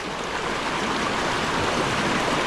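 Floodwater current rushing past, a loud, steady, broadband roar of moving water that fills the whole short stretch with no pauses and no voices.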